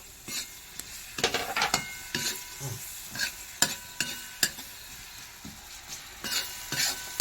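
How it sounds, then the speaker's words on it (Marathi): Chopped onions dropped into hot oil and stirred for a chicken tawa fry, giving a close, steady sizzle broken by repeated sharp scraping and clattering strokes of the spoon against the pan. "मस्तपैकी कांदा वाजत आहे"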